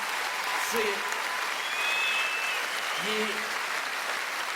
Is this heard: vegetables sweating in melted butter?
no